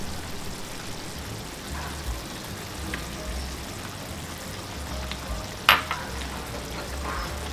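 Shakshuka sauce simmers in a pan with eggs added, making a steady soft bubbling sizzle throughout, with one sharp clink of utensil against pan near the end; no talking.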